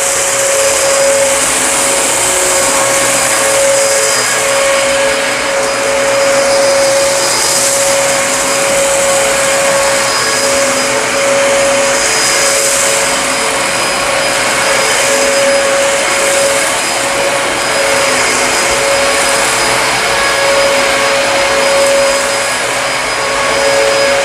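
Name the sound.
vacuum cleaner with brush roll on, picking up pet hair from carpet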